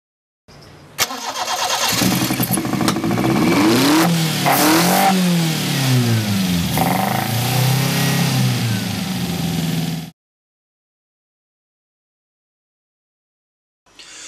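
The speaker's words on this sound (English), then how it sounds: "I thought I'd start her up, because I can't imagine the other 39 applicants can say they've started a car they've built for themselves" A self-built car's engine cranks and fires, then revs up and down several times, loud and close for about nine seconds before cutting off abruptly into silence.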